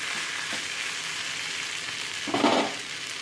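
Corn kernels with onion and salt being stirred in a pan, a low steady crackle of cooking with one louder scraping stir toward the end, no voices.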